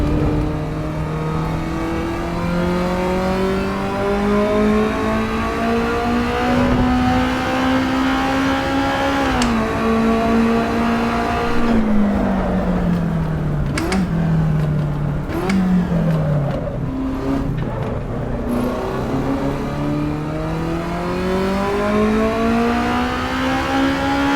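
A race car engine in the video game Assetto Corsa EVO revs to nearly 9,000 RPM, its pitch climbing and falling in long, sustained sweeps through gear changes, loud and steady throughout with no talk.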